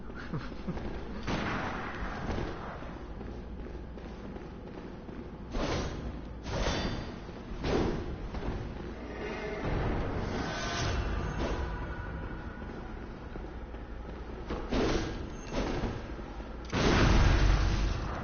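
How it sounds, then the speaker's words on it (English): Gunfire in a PS4 video game: several loud, sharp broadband bangs scattered through a busy, noisy game soundtrack, the heaviest burst near the end. "Gunshot."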